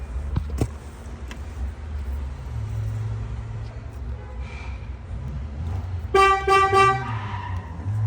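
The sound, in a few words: Chevrolet Cobalt car horn honking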